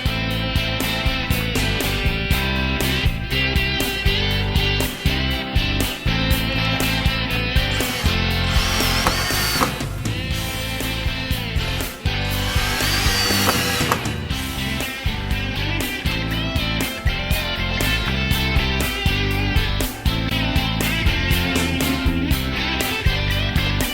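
A power drill drives set screws while a frameless wall cabinet is fastened into place. Loud, dense whirring and grinding runs almost continuously, with only short dips.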